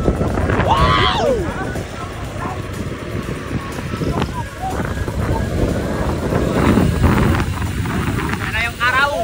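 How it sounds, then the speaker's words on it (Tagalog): Strong wind buffets and rumbles constantly across the microphone during a 200 km audax bike ride, with low roaring gusts throughout and faint voices in the distance. "Medyo mahangin na kasi."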